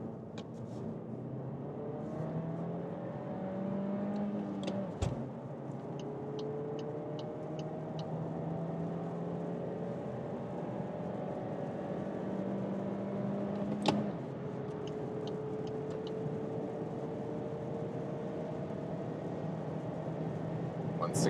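A Volkswagen-group car with manual shifting in sport mode accelerates on a German Autobahn, its engine note rising steadily through the gears with breaks at each shift, heard from inside the cabin under a steady road rumble.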